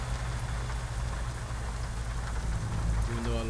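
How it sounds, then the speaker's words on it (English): Heavy rain pours steadily in American Truck Simulator, a dense continuous hiss on the cab with a low engine rumble underneath, briefly joined by a tonal sound near the end. "this rain is, it's going crazy, man. Hasn't stopped raining."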